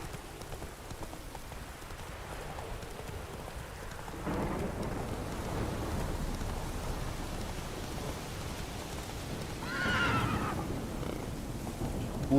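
Rain and thunder in the video game The Witcher 3, a steady rain hiss throughout with a thunder rumble swelling around the middle and another roll near the end, no talk.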